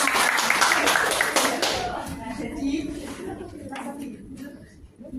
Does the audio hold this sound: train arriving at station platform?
no